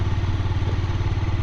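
A motorcycle engine runs steadily and loudly up close on a road under construction, its low rumble pulsing with a slight clatter as the rider pulls to a stop.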